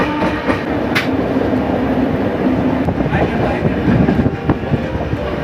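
Tamralipta Express train rolling out from the large Howrah station shed through a tangle of tracks, a steady loud rumble of wheels on rails with faint rhythmic clatter throughout, no voices.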